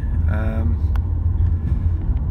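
An electric car on a London trip rolls along with steady low road rumble and tyre noise, while a voice briefly speaks over it near the start.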